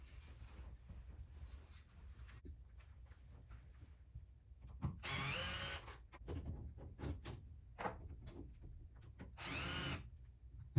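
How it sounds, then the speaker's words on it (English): An electric drill bores into a car dashboard in two loud, high-pitched bursts of a few seconds each, with quieter handling noises and shorter whirs in between. "Now I have to drill 5 holes into this nice dash."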